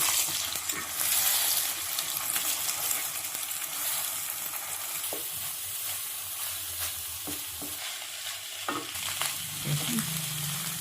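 Egg chilli fry seasoned with salt and pepper, stirred in a pan: a continuous close sizzle with intermittent spatula scrapes and metallic clinks against the pan.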